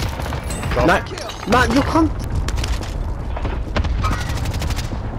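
Rapid bursts of gunfire from a video game firefight crackle in the background while players talk over voice chat, the shots steady and continuous rather than loud single reports.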